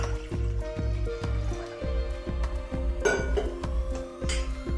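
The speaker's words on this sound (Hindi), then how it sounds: "साजा बनाने के लिए हमने कुकर लिया है, उसमें हम 4 कटोरी पानी डालेंगे।" Water is poured by the bowlful into a pressure cooker for maize porridge, a close gurgling, splashing fill with faint clinks, broken by brief pauses between pours.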